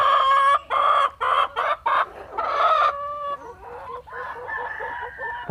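Native free-range chickens in an egg-laying flock being fed rice and feed pellets, clucking loudly and continuously up close in choppy bursts, with no voices.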